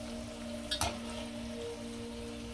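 Sweet corn pakoda deep-frying in hot oil, a steady close sizzle with a brief burst of louder crackling and a stir partway through, no voices.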